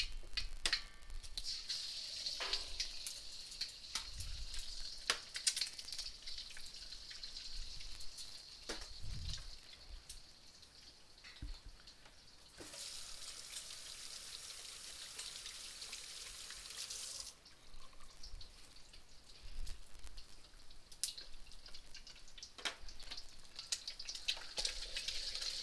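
Mustard seeds pop and eggs fry in a pan: a quiet, steady hiss with scattered faint ticks and pops and a brief louder surge of sizzling midway.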